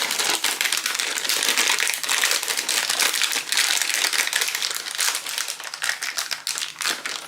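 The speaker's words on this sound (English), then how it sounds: "So I'm putting that in the piping bag." A plastic piping bag crinkles and rustles as macaron batter is spooned into it, close and busy with rapid crackling bursts throughout, no talking.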